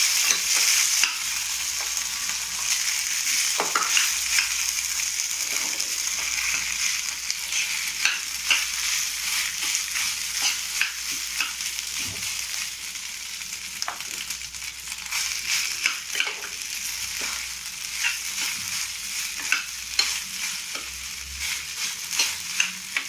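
Rice for jeera rice fries and crackles in a pan while a spoon stirs and scrapes it, a steady close sizzle broken by repeated soft scraping strokes, with no voices.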